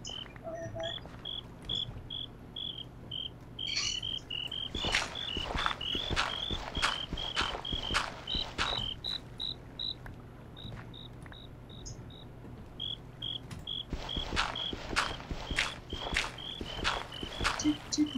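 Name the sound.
crickets chirping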